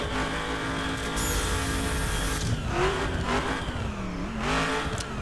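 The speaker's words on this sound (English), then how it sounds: "the 1969 Dodge Charger RT. Yeah, man, this thing's a beast. You just listen to it." A 1969 Dodge Charger RT muscle car in the racing video game The Crew, its engine roaring and revving with rising and falling pitch, a brief tire squeal, loud and close throughout.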